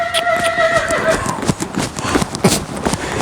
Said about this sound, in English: Really nice looking horse.